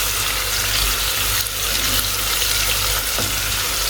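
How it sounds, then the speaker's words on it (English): Jollof rice with thyme and onions fries in a pot, giving a dense, continuous hiss and sizzle at close range with no one talking over it. "Now I'm just going to fry this and the onions."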